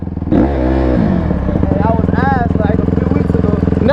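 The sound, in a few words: two-stroke dirt bike revving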